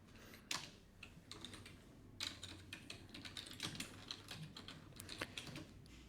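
Quiet, irregular clatter of keys on a computer keyboard, close by, with bursts of rapid keystrokes and short pauses, no talking.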